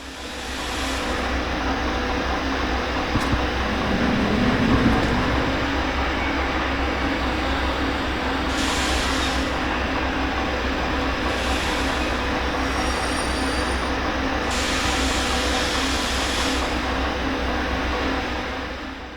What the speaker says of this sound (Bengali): ট্রেন থামছে তো